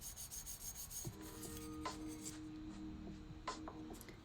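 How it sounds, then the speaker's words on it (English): Fine grit sandpaper rubbing along the repaired seam of a ceramic fish dish during wet sanding, a faint, close scratchy rasp made of short strokes, with some brief squeaky tones mixed in and no voices. "I'm going to be using this fine grit sandpaper. And just sanding."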